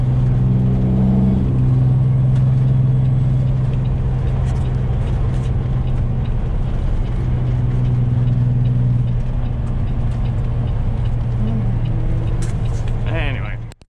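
Loud, steady low engine drone and exhaust rumble from a straight-piped Peterbilt 389 truck on a snowy run, sustained close up for the whole stretch before cutting off abruptly at the end.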